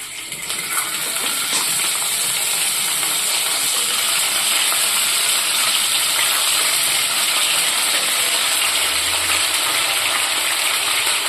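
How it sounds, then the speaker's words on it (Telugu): Chicken pieces dropped into hot oil for a Telugu-style green chicken curry give a loud, continuous sizzling hiss that holds steady throughout. "చూడండి, ఇప్పుడు ఆయిల్ వేడైపోయింది కదా, ఇప్పుడు ఇందులోకి చికెన్ వేసేస్తున్నామండి"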